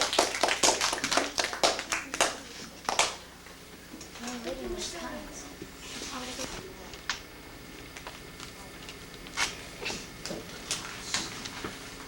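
A fifth-grade class claps in the classroom for a visitor, a brief burst of scattered applause that trails into quieter taps while people talk.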